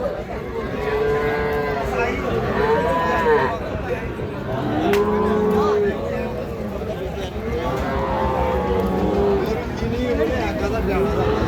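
Cattle, young bulls and heifer calves, moo repeatedly at a busy village livestock market in Ambari, long drawn-out calls rising over steady crowd noise and people talking nearby.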